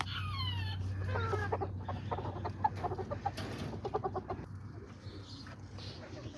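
Chickens and a small white rooster cluck in a farm cage, a run of quick, close clucks and short calls over a steady low hum, with no talking.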